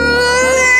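Children imitate a dragon's horrible screech with their voices, a loud, sustained high wailing cry held for under a second, told around a fire.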